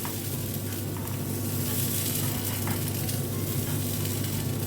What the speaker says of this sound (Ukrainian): Ось так смажиться наш млинець.